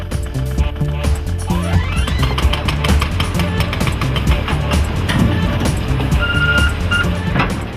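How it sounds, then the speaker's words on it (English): An excavator works with a group of smaller construction machines around it, giving dense clattering engine noise, repeated metallic knocks and intermittent high beeps, with voices talking over the machinery. "A whole group of smaller machines works around an excavator, and this machinery secures its continuous operation."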